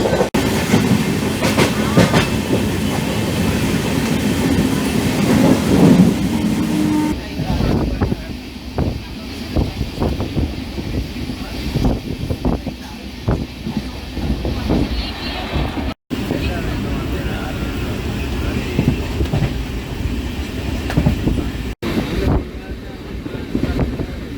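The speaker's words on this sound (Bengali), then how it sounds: "এই রাত্রেবেলায় এখন ট্রেন জার্নি হবে আপনাদের সাথে" Night train from Kolkata to NJP running steadily, a continuous rumbling roar with rattling clatter and wind rush throughout, loud and close inside the carriage; a voice speaks in the first seconds.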